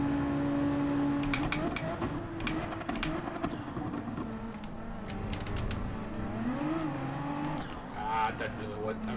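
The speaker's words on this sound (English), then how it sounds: "that Supra's flying up to me now though" A Toyota Supra race car in Gran Turismo 7, running a Group 3 daily race at Circuit de Spa-Francorchamps. Engines whine and shift pitch, and scattered sharp keyboard-like clicks sit over them.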